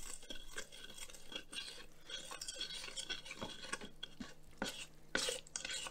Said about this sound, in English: And then I just give it a stir to really incorporate everything.